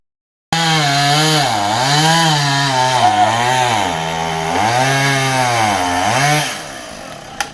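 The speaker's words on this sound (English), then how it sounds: "we hear a chainsaw" Loud, close chainsaw cutting a storm-felled tree after Hurricane Melissa, the engine pitch dipping and rising in repeated waves as the blade bites into the wood, then trailing off at the end.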